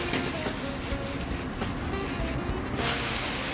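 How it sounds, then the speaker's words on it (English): Wine sizzles in a hot, greased pan with sautéed, seasoned food: a steady, close hiss that holds throughout, swelling slightly toward the end. "You grease the pan with a little wine."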